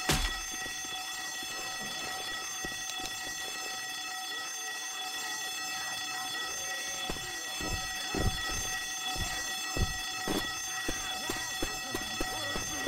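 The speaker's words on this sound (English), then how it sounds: "Somebody turn off the alarm!" Car alarm in Left 4 Dead 2's Dead Center campaign, a continuous electronic wail sounding steadily at moderate volume, with scattered thuds and game noises around it.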